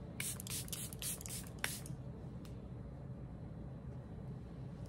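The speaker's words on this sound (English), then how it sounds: "So this is just the Charlotte Tilbury Airbrush Flawless that setting spray." Charlotte Tilbury Airbrush Flawless setting spray gives several quick, hissing spritzes up close, then a faint steady room hiss with no talking.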